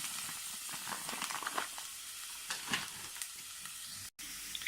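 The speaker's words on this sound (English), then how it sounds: "Mince needs a lot of oil, so I will add a lot of oil to this." Frozen mince with onion frying in plenty of oil in a pan, a soft steady sizzle with scattered crackles, fairly faint, broken by a brief dropout near the end.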